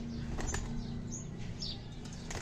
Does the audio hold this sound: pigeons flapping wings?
yes